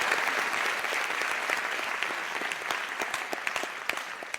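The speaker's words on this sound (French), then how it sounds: "Un applaudissement s'il vous plaît." Steady audience applause at a stand-up comedy show, a dense wash of many hands clapping at full strength for the whole stretch, with no talk over it.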